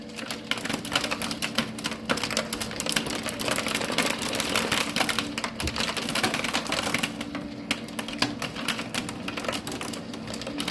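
A large pet food dispenser mechanism runs continuously with a dense, rapid mechanical clatter like a typewriter over a steady motor drone, loud and close throughout.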